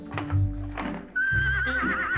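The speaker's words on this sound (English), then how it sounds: "Were you just Skyping with a horse?" A dressage mare neighing over a Skype call, a single loud whinny that rises and trembles, preceded by soft snorting and hoof clops, heard close.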